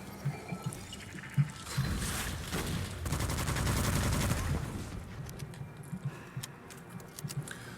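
Rapid bursts of automatic gunfire from a weapon in Witchfire crackle loudly for a few seconds, then thin out into scattered shots and clicks, with little talking.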